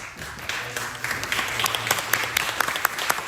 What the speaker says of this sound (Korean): 일어나실 때 박수